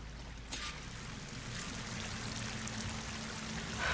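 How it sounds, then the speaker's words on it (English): A waterfall in the Horizon Forbidden West video game makes a steady rushing, pouring roar that holds fairly constant throughout, with a brief brighter splash near the start and a slight rise at the end. "That waterfall must be coming from somewhere."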